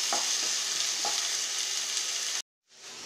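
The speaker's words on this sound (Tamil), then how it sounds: "இப்போ இந்த கருவேப்பிலையும் சேர்த்துடலாம். இப்போ இது வந்து கொஞ்சம் வதங்கட்டும்." Curry leaves sauté in hot oil in a pan for tomato rice, making a close, steady sizzle with faint stirring taps. The sizzle cuts out abruptly and then returns more quietly.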